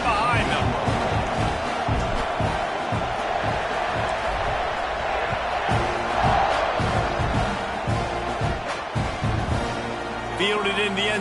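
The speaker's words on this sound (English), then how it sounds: "this crowd now ready to get behind them" A football stadium crowd roars and cheers before kickoff, a dense, loud, sustained wall of voices under continuous commentary.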